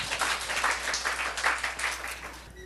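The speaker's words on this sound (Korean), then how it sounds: "우리 하나님께 박수 올려드려요" A church congregation in Seoul applauds God during a Sunday sermon, a steady wash of many hands clapping together, fairly close and sustained throughout with no talk over it.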